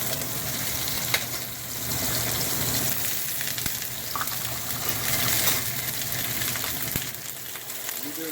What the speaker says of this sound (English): got an extremely hot pan here. Get the butter melting.